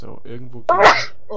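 A single abrupt sneeze bursts out in the middle of casual talk during a modded Minecraft session, loud and close, with speech before and after it.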